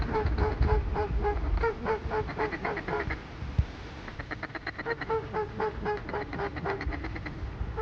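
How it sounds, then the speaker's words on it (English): A group of ducks quacking in repeated rapid series out in a field during a waterfowl hunt, fairly close, with voices talking underneath. "I hear ducks."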